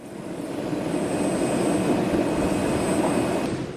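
An Indonesian Air Force fighter jet on the ground gives off a steady, loud engine roar with a broad rumbling body that holds level for several seconds and then eases off at the end.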